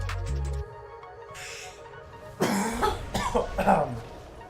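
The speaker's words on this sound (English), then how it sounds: "that cough was real bad" A harsh, rough cough erupts in a few close bursts after a brief low rumble, loud and raspy with no talking.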